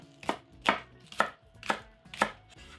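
Five crisp knife chops through scallion root tips on a cutting board, evenly spaced about half a second apart, each a sharp close knock with no talking.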